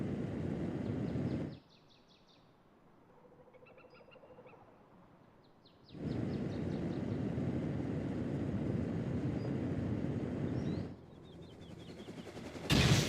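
Gunfire in the Rust video game, dense rapid shots forming a loud continuous barrage that stops for a few seconds, then resumes just as heavily, ending in a sharper burst.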